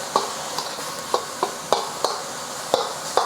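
Ground pork sears in a hot pan for Chinese-style green beans, giving a steady close sizzle broken by several sharp scrapes and taps of a utensil, with no talking.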